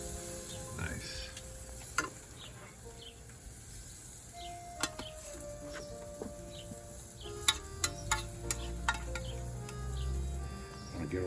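Stuffed portabella mushrooms sizzle in a pan with a continuous low fry, broken by sharp clicks and pops of utensils against the pan, brief squeaky scrapes in between, all fairly close.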